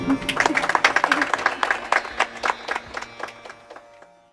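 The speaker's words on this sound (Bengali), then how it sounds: "তো একটা বিরাট করতালি ওর জন্য" An audience at a Rabindranath Tagore tribute concert breaks into applause, a burst of many hands clapping that starts strong and gradually thins and fades over a few seconds.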